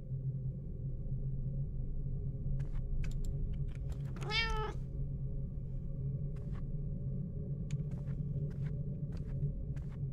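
A cat meows once, a clear rising-and-falling call, inside the horror video game 9 Childs Street, set over a steady low game drone and sparse clicking keys.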